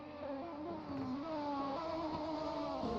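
Racing car engines in a DTM championship race in a sim racing game, a continuous revving engine drone with rising and falling pitch as gears change, fairly loud with no talk.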